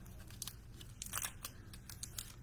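Kitchen shears snip through the plastic wrap of a package of pork sausage and ground beef, a few quiet crisp cuts and crinkles close by, with soft rustling between them.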